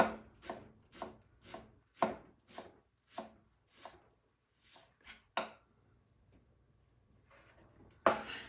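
Garlic smashed and chopped with a knife on a board: a run of evenly spaced sharp chops, then a pause, a couple more strikes and one loud final hit, close and alone.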